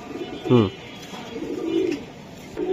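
A large maxi racer pigeon gives a short, loud throaty coo close by, followed by softer low cooing murmurs with quiet background chatter.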